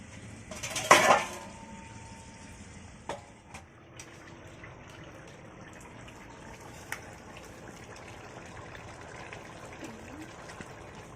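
A metal lid clatters onto a cooking pot of jackfruit and prawn curry with coconut milk. One loud clang comes first, then a few softer clinks and light kitchen noise fade into a quiet background.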